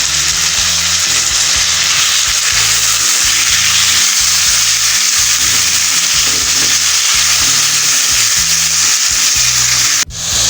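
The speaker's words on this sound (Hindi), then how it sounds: "अभी इसके अंदर टमाटर और सब्ज़ मिर्च छोटे छोटे काट के हमें इसके अंदर ऐड करने हैं, और इसकी हमने ठीक ठाक इसके भीतर हम बुनाई करेंगे" Chopped tomatoes and green chillies frying in hot oil in a pan for baingan bharta, a loud, steady close-up sizzle with stirring scrapes underneath, continuous and without talk until an abrupt cut near the end.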